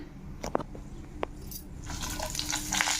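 Chana dal hits hot oil in a kadai with a few sharp clinking taps, then a soft sizzling crackle swells and keeps frying steadily, quiet and close.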